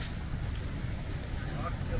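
Strong wind gusts outdoors on a college campus in Canada, a loud continuous roar buffeting the microphone with low rumble throughout, steady and unbroken.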